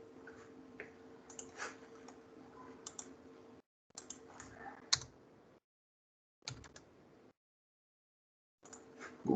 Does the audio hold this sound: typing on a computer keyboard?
yes